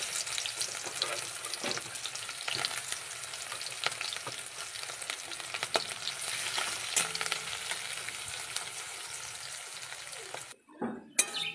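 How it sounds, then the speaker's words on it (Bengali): Sliced onions and nigella seeds fry in hot oil, giving a loud, steady crackling sizzle with occasional stirring scrapes, cut off abruptly near the end as the heat goes off. "পেঁয়াজগুলো ভাজা ভাজা হয়ে গিয়েছে"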